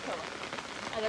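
Steady rain falls on surfaces at a home during the monsoon, a soft, even hiss over a very short stretch.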